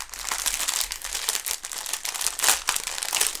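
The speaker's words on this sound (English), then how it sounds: "If you don't like crinkles, just fast forward it. But honestly, if you don't like the crinkle sound" Crinkling plastic packaging from a diamond painting kit, the Toucan Threesome by Carolyn Steele, rustles close and loud in a steady run of crackles and crunches with no talking.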